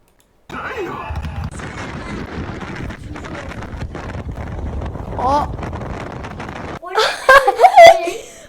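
Wind buffeting the microphone in steady rumbling gusts, with voices talking under it and a louder burst near the end.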